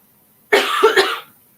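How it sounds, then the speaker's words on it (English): A single close, harsh cough with two quick bursts, loud and brief, surrounded by silence. "I got a cough, excuse me."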